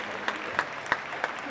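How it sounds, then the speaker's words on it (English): Applause from an audience at an awards ceremony, heard as a steady wash of clapping with a few sharper claps standing out at regular intervals, moderately loud and brief, with no talking. "Yes, give him a round of applause."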